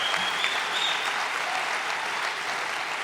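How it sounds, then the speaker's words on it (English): Graduation audience at an INSEAD MBA ceremony applauding the valedictorian, a full, continuous roar of many hands clapping with faint cheering underneath. "And pause for applause."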